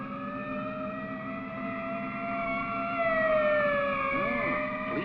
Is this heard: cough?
no